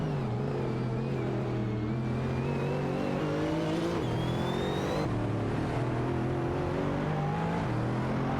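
Race cars in a racing video game, including an Audi R15 TDI and a Lola 11 80 HPD, drone and rev continuously with shifting engine pitch, loud and close and without speech.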